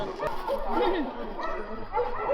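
Yakutian Laika at a dog show giving short yips and whimpering barks amid indoor chatter, with a person talking over the sounds.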